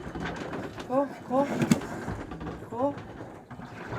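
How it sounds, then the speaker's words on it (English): A pet bird on a liveaboard sailboat gives a few short soft coos in quick pairs, close by, with people talking quietly around it. "We have a bird."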